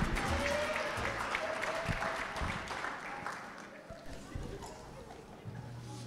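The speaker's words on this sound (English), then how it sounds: "let's give another round of applause for our lovely Miss Samoa Hawaii" Applause from a pageant audience for a Miss Samoa Hawaii contestant, moderately distant and gradually tapering, with scattered crowd voices underneath.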